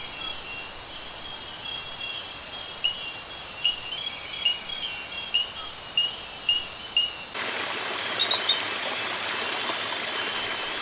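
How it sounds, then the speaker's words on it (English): Repeated chirping calls of long-fingered toads at a steady rhythm, about every half second, over the constant rush of a flowing stream in the Borneo jungle at night. "The branches above a small stream are loud with the calls of long-fingered toads."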